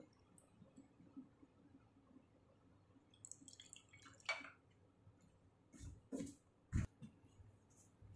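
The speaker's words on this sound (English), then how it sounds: "I pour the true solution" Quiet, sparse drips of a true solution passing through filter paper in a funnel land one at a time, faint at first, then a few louder, closer drops toward the end.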